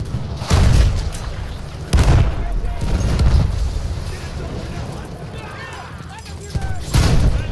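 Field gun artillery booms in Battlefield 1 wartime combat near a village; several heavy, loud blasts land at intervals with rumbling tails between them, mixed with other battle noise, while voices are heard speaking.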